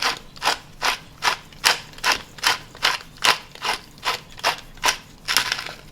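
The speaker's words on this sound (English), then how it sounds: "Some freshly ground pepper." A pepper mill grinds fresh black pepper for a potato salad, its ratcheting crunch coming in about a dozen evenly spaced twists, close and moderately quiet, with no talking over it.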